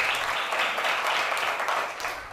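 A class of young schoolgirls in a Mogadishu classroom clap along together, a bright, continuous patter of many small hands that holds steady and fades slightly at the end.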